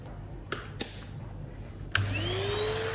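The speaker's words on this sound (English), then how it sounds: "I'm actually going to vacuum the top of the cooker as well" Vacuum cleaner switched on to dust the top of a kitchen cooker, heard after a few clicks and knocks, its motor rising into a steady close whine with no talking.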